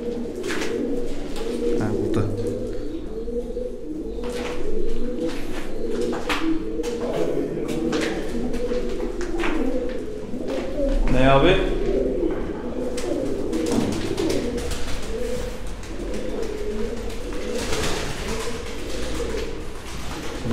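Mardin tumbler pigeons coo repeatedly in a loft, soft throaty calls overlapping throughout, with a brief louder flutter partway and someone speaking at moments.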